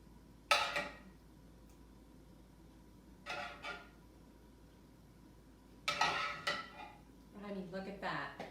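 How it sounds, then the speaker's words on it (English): Ceramic plate handled in a kitchen while tomato sauce is spooned over meatballs, giving a few separate clinks and clatters with quiet gaps between them, close and moderately loud. "let me get the plate and I'm gonna put sauce on"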